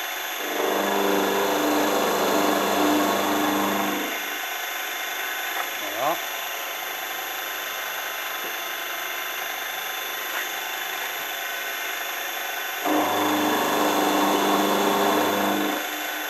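A milling machine runs a knurling tool against a nut in two loud stretches of grinding, whirring cutting, one at the start and one near the end, with a quieter machine hum in between.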